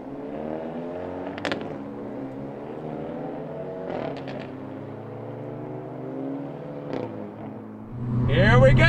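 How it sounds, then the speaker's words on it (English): A 2022 Hyundai Elantra N accelerates hard on throttle, its engine note climbing steadily through several gears with brief breaks at each shift, heard from inside the cabin before a burst of louder noise at the end. "Let's go on throttle in our Elantra N."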